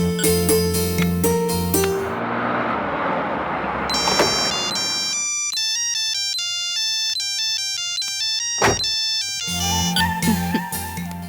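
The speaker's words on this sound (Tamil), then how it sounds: "முதல்ல ரோகிணிக்கு போன் பண்ணுங்க" A phone ringtone plays a repeating electronic melody of bright tones that sounds plainly and alone, followed by a short burst of noise.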